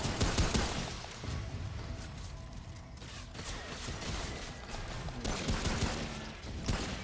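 Dense gunfire in the video game Remnant: From the Ashes, continuous overlapping shots and bursts with mechanical clatter filling the whole stretch at steady loudness, no talk.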